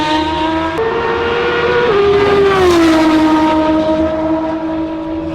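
A Porsche GT3 RS racing around a damp track, a loud, sustained engine note rising in pitch, dipping briefly at a shift and then sliding lower, steady and close throughout.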